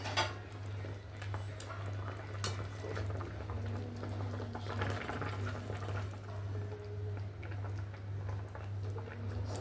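Water boils in a pot on a gas stove, a quiet, steady low bubbling hum with occasional faint clicks and clinks of kitchen utensils and no talking.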